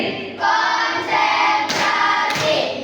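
Children do a "tepuk konsentrasi" concentration clapping routine, several loud bursts of hand-clapping in sharp, separate rhythmic groups.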